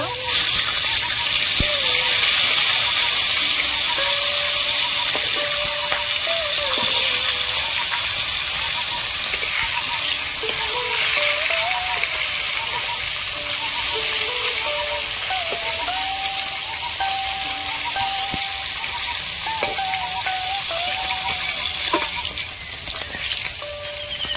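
Katla fish pieces frying in hot oil in a pan, a dense, steady close sizzle running throughout, with faint tonal background sounds and no talk.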